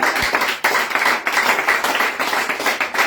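A congregation at a prayer and teaching cell in Yopougon claps to acclaim Jesus, a dense, steady burst of many hands close and loud with no voices over it.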